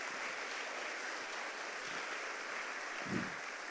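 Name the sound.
audience applause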